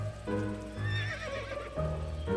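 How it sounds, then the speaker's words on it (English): A blue horse neighs in the video game To the Moon, a close, loud whinny lasting a couple of seconds with a wavering, stepped pitch against faint game background. "A very blue horse."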